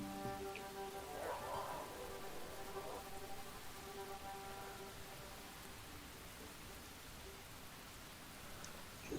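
Steady rain pours across the landscape in the video game Enshrouded, a dense even hiss that holds throughout, with a faint tonal hum beneath it early on.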